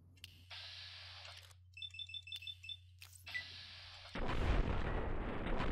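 Gunfire in a heavily modded Fallout game: after a stretch of electronic beeps and tones, a loud, harsh blast bursts in and rolls on as a sustained, rough roar until the end.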